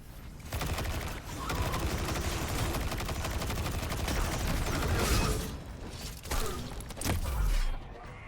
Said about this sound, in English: And I love my machine gun